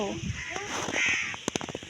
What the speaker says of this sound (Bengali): কাকটা ডাকছে ওখানে